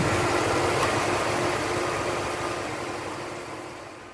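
A car or truck engine idles with its air conditioning compressor engaged, a steady broadband running hum with a low mechanical vibration, loud and close throughout, easing slightly toward the end.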